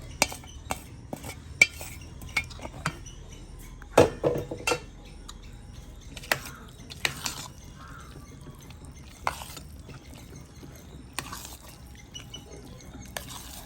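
A spoon clinks and scrapes repeatedly against a metal pot as fried ingredients are stirred into milk pongal, sharp close taps at irregular intervals over a quiet background.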